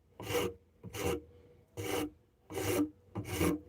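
A hand rasp filing wood in five evenly spaced, coarse strokes, each a close, loud rasping scrape separated by short silences.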